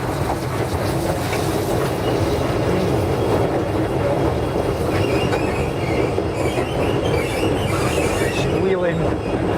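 Railway wagons rolling behind a steam locomotive with a steady rumble and high metallic squeal of wheel flanges, continuous and fairly loud throughout.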